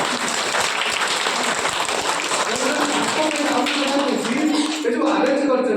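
An audience claps at a primary school culture and toys programme in Ramashyampur, a sustained, fairly loud patter of hands, with voices talking over it toward the end.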